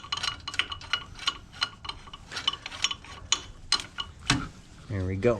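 Tools working on a Subaru EJ20 engine as the alternator is loosened and its belt popped off, a series of sharp mechanical clicks and ratcheting taps close by, with someone talking briefly near the end.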